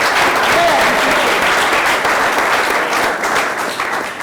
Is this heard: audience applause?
yes